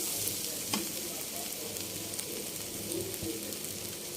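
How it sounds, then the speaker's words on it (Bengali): Onion greens with shrimp frying in a pan, a steady moderate sizzle with faint stirring scrapes and a couple of soft clinks, no voices. "পানিটা শুকিয়ে যাওয়ার পরে আমি ভাজিটাকে ভালো করে ভাজা ভাজা করে নিয়েছি।"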